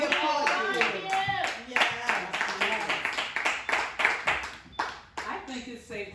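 Hands clap in a quick, uneven burst while a voice talks over them, the claps sharp and close.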